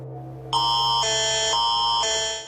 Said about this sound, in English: The alarm went off just after 6:30, waking up many Calgarians with an ask to skip the morning shower